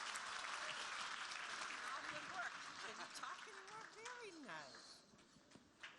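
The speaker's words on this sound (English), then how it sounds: "One more time, a big round of applause for all the generosity." A large audience at a youth leadership awards program gives sustained applause, with some cheering and voices mixed in as the clapping slowly thins toward the end.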